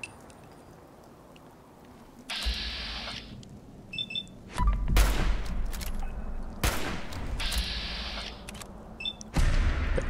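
Gunshots in Fallout 4 played on Survival difficulty, a few separate loud blasts with echoing tails and stretches of quiet between them, no talking.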